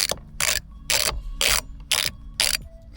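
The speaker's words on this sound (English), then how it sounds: "I think it's hexagon head socket, 1/2 inch." Ratchet wrench with a 24mm 1/2-inch hex socket loosening the steering wheel bolt on a Ford Focus RS, six loud bursts of rapid clicking at a steady rhythm with short pauses between strokes, up close and alone.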